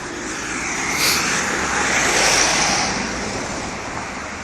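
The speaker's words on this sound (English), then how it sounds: "Not sure how bad the car noise is going to be either" A steady, broad roar of road traffic rises and falls as vehicles pass, a continuous whooshing noise with no clear breaks and no talking.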